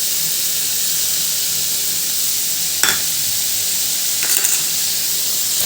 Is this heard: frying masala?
yes